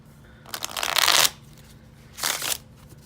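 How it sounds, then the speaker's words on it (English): Two quick bursts of a tarot deck being riffle-shuffled close by, the first longer and louder, separated by a short quiet pause. "So let's give them a shuffle."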